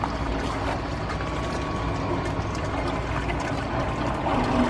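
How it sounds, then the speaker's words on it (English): An RV macerator pump hums steadily as gray water from the holding tank rushes through a drain hose, a continuous close whir and splashing flow with no pauses. "Turn on your macerator. And now the gray water from the gray tank is going to be running through the hose and going down the drain."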